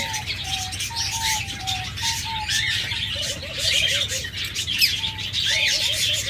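Caged diamond doves and other small birds at a bird market give soft repeated coos alongside high chirps and squawks, several birds near and far, mixed with faint background voices.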